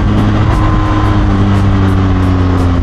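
Motorcycle cruising on an expressway, a steady loud engine drone with harmonic hum and rushing wind, constant throughout with no pauses.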